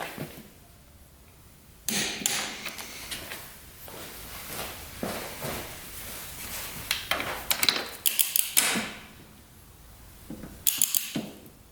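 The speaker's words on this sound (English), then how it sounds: "for the cylinder bolts here, we're gonna be tightening these to 32 foot-pounds, crisscross pattern" A ratchet wrench tightens the cylinder bolts on a 400cc dirt bike in a crisscross pattern, giving bursts of quick clicking and metallic ratcheting separated by short pauses, close and fairly loud.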